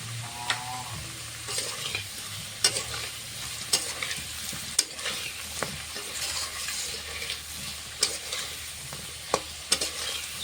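Potatoes fry in oil with a pinch of turmeric powder, making a continuous close sizzle with scattered sharp clicks and scrapes from stirring over about ten seconds. No voices are heard.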